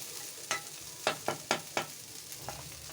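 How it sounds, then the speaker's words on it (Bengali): Food frying slowly in a pan on a gas stove, a soft steady sizzle broken by about half a dozen sharp utensil taps and scrapes, fairly close and quiet, with no voices. "আস্তে আস্তে করে এটা লাল করে ভাজি করবো আমি।"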